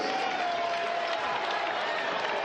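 Crowd in a basketball arena, the Mitchell Center during a college semifinal game, swelling into cheering and applause, a continuous dense roar heard at some distance and held steady throughout.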